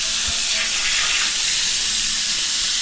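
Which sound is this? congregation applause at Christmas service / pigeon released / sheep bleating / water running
water running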